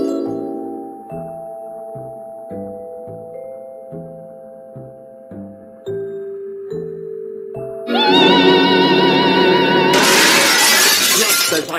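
Window glass shattering in a Sherlock Holmes mystery game, preceded by a slow sequence of sustained synthesized tones, then a loud crash of breaking glass with bright tinkling shards that rings on for several seconds.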